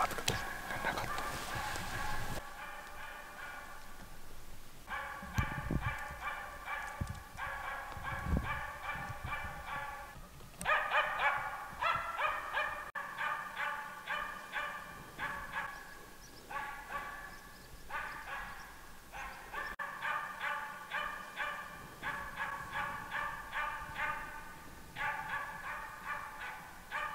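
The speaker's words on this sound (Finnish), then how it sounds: "Nyt on ensimmäinen haukkutilanne päällä." A Finnish Spitz bird dog barks at a grouse-type game bird while hunting in a forest, giving long series of rapid, rhythmic barks at a moderate distance, over faint outdoor background sound.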